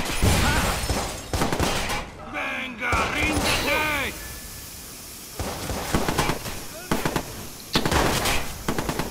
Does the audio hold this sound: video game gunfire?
yes